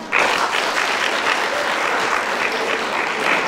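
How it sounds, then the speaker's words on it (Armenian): A studio audience applauds steadily for Melik on an Armenian TV show, dense clapping that starts sharply and holds loud and even for a few seconds with light crowd noise beneath. "Դե ինչ ծափարենք Մելիքին։"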